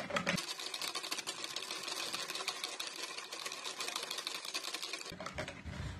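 Yogurt cake batter is mixed with an electric mixer, a close, steady mechanical whir with rapid rattling that runs for about five seconds and then stops, with no speech.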